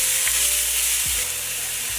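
Soup ingredients cook in a pot with a steady close sizzle and frying hiss, broken by faint stirring sounds, and no one speaks.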